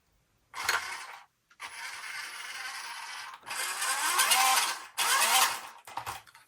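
A 1:10 scale RC military jeep drives in short runs, its small electric motor giving a whirring, gear-laden whine in four separate bursts broken by brief silences, close and clear.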